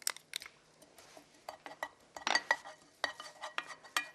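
Minced garlic stir-fried in a lightly heated pan for anchovy stir-fry, with a utensil scraping and clinking against the pan in irregular close taps and brief bursts, no talk.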